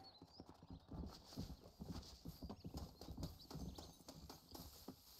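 A horse in the video game Red Dead Redemption moves along in a quick, steady clip-clop of hooves that continues throughout, faint and low in level.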